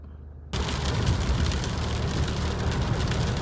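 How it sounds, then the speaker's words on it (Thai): Rain pours down on a vehicle during a drive, starting abruptly after a quiet half second and then hissing and drumming densely and steadily with a low rumble beneath. "ครับผมฝนตกตลอดทางเลย แค่ออกบ้านมาเลยครับ"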